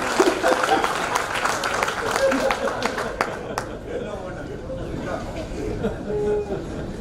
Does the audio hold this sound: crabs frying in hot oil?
no